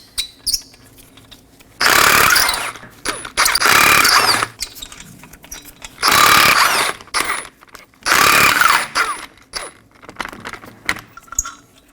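A hand ratchet loosening 19mm lug nuts on a Ford Transit Connect front wheel, several loud close bursts of rapid clicking separated by pauses, with small metallic clinks in between.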